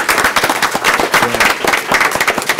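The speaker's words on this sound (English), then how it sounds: "let's give her a big round of applause for that" Steady, loud applause from an audience at a city council meeting, many hands clapping together without a break, close and full-bodied.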